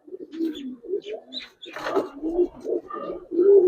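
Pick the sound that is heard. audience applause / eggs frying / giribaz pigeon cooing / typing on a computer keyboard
giribaz pigeon cooing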